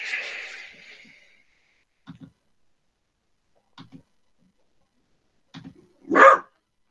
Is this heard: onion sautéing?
no